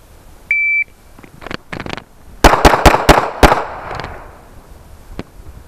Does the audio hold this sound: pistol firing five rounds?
yes